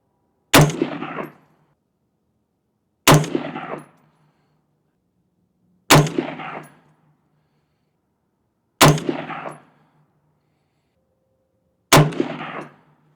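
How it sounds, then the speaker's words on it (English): .22 caliber rifle firing at steel targets at 50 yards on an outdoor range: five sharp cracks, each with a ringing ping and a short decay, spaced about three seconds apart and loud against near silence. "whether or not we can see the hits on target at 50 yards with that smaller 22 caliber bullet"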